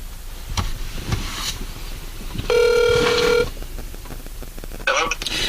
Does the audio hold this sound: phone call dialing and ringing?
yes